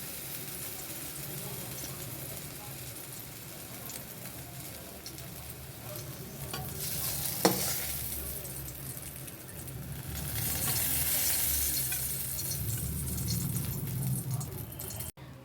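Food is fried and stirred in a pan, with a steady close sizzle and scraping stir strokes, a sharp clank midway and a louder stretch of sizzling toward the end.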